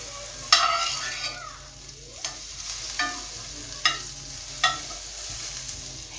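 Butter melts and sizzles in a pan while fish is being prepared, a steady close frying hiss with a few sharp crackles and stirring clicks, no talking.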